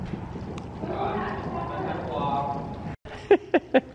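Horse hooves from a riding lesson arena, as a horse works over poles on a balanced cross through the center; three sharp clip-clop strikes land in quick succession near the end, following a stretch of steady background noise and talk.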